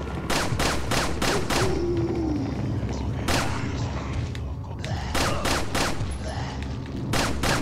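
Enemies fire guns in Resident Evil 4 as a rapid series of sharp shots, with repeated loud bursts crowding the whole stretch and short gaps between volleys, all over a steady game background.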